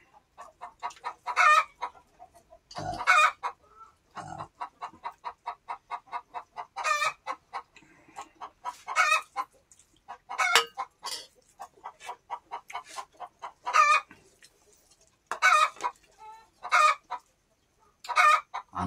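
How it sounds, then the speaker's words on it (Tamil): Chickens cluck in quick rhythmic runs, with loud roosters crowing several times between them, all close and clear, with no talk. "அந்த கோழின்னா அப்படியே தான் சத்தம் போட்டுலேயே தான் கிடக்கும்."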